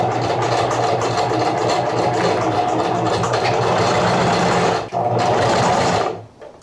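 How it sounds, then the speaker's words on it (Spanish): A sewing machine runs steadily while stitching a crocheted granny-square trouser panel, a loud continuous motor whir and needle clatter that pauses briefly near five seconds, then resumes before stopping at the end. "Vamos a coser la otra pieza."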